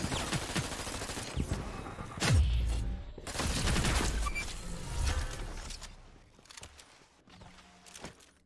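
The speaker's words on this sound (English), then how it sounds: "Shots fired" Hyper Scape video game gunfire: rapid bursts of automatic shots crackle in clusters, then fade into scattered single reports and quieter mechanical clicks near the end.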